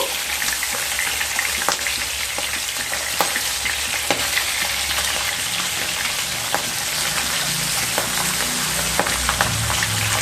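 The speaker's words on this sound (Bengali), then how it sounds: "মাছগুলো একটা সাইড ভাজা হয়ে গেছে। এবার মাছগুলোকে উল্টে দেব।" Pieces of pabda fish sizzle steadily in hot oil as they are flipped in the pan, a loud continuous crackle with scattered sharp pops and faint clicks of the turning utensil, with no voices.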